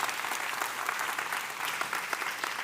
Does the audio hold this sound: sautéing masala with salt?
no